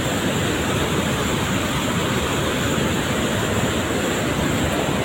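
River in Tasikmalaya swollen by a full day of heavy rain, rushing over a dam as a loud, steady roar of broadband water noise that continues without a break and with no voices.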